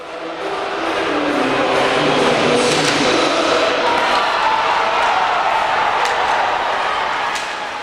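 Crowd noise in a packed ice hockey arena at an English league title decider, a dense sustained roar that swells and holds steady, loud and close with scattered sharp knocks.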